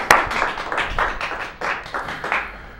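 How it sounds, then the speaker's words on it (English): A small audience applauds at a quiz-style show, with scattered, moderately loud claps and irregular bursts of hand claps over a few seconds. "Let's give her a round of applause"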